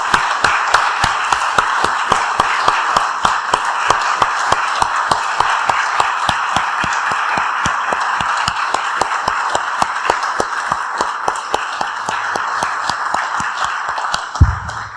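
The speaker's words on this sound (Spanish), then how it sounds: "Damos un aplauso, hermanos." A church congregation claps in unison, crisp evenly spaced beats keeping a steady rhythm for a long stretch over a soft background wash, with a final louder thump at the end.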